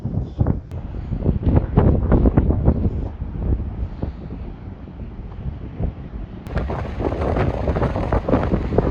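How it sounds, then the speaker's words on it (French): Strong wind on the Irish Connemara coast buffets the microphone in gusty, rumbling bursts, loud and close, with a brief calmer stretch before the gusts pick up again. "Il fait froid, il y a du vent"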